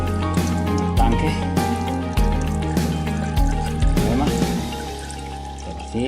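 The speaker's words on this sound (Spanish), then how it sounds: "ahora ya va con que eche el aceite" Motor oil pours into the tank of a BMW R1200RT motorcycle during an oil and filter change, a steady liquid splashing and gurgling under someone talking.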